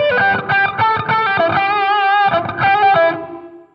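Distorted electric guitar with an effects unit plays part of a solo, a quick run of hammer-ons and pull-offs that settles into a sustained, vibrato-laden held note before the run resumes, loud and upfront.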